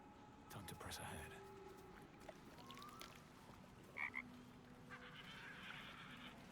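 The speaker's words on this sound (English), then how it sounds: "Ribbit the frog croaks." Frog in Baldur's Gate 3 giving a short croak, followed later by a quick double chirp, set against low game ambience with a faint hiss.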